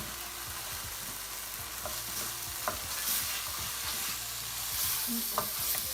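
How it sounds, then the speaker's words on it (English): Frozen mixed vegetables hit a hot pan for a restaurant-style vegetable jalfrezi, giving a loud, continuous close sizzle with occasional scraping stirs and no talk. "Here goes my frozen veggies I'm going to add first."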